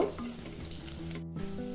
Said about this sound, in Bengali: ভালো করে মুগ ডালটা একটু ভেজে নিব